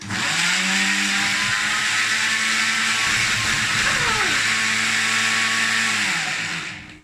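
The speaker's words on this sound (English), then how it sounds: "I think my blender is having a hard time." A kitchen blender labors through tapas ingredients, its loud motor whining steadily for several seconds, the pitch sagging and wavering as the blades bog down, then cutting off at the end.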